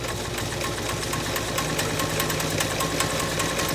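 A 1.0 amp Montgomery Ward UHTJ1273 sewing machine running steadily through a modified zigzag stitch, width 3 and length 3, with a continuous rapid mechanical chatter and motor hum, close and unbroken.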